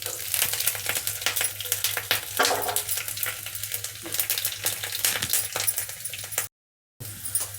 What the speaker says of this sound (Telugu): వెల్లుల్లి అయితే నేను ఇలాగనే వేస్తున్నాను, బాగా ఫ్రై చేసి.